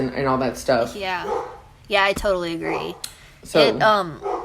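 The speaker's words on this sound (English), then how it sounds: "I'm sorry about my dog." A dog barks and yips a few times in short bursts, close and fairly loud, overlapping with people talking.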